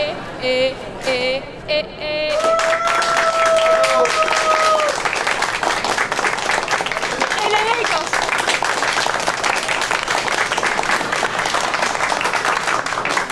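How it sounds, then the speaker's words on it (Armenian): Loud, sustained crowd applause and clapping fill a hall after a woman named Elen sings at a singing contest. It starts with a brief stretch of voice and sung tones, then the clapping continues strongly to the end. "Էլենի երգելուց բարձր ծափ տանք"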